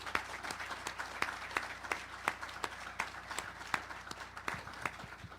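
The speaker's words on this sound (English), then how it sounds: "if I could ask everybody just to applaud our panel and thank them for their participation" A conference audience at a public panel discussion on the San Bruno tragedy applauds the panelists, producing faint, somewhat distant, steady clapping with clearly separate individual claps and no talking over it.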